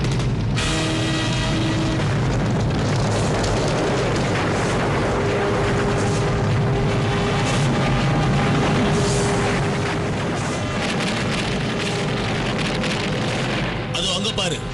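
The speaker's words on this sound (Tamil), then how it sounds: "எரிமலை வெடிச்சிருச்சு." A cartoon volcano eruption rumbles and roars in a continuous loud, dense wash with crackling debris and low booming, sustained throughout with only a brief dip near the end.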